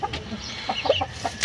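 Hen clucking: a tall laying hen kept on a backyard farm gives several short, soft clucks scattered across a brief moment, close by, with some faint background noise and no talking.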